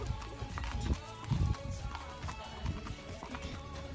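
Hooves clip-clop on a hard surface as a horse shifts and steps about close by at a barn, with a person talking over the movement.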